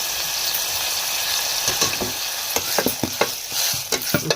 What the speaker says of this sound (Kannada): ಟೊಮೆಟೊ ಹಣ್ಣು ಉಪ್ಪು ಹಾಕಿ ಸ್ವಲ್ಪ ಮಿಕ್ಸ್ ಮಾಡಿ